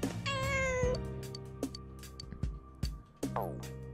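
Cartoonish cat meows from the video game Persona 4 Golden, several short mewing calls over a steady game music bed, fairly close and clear, with no talking.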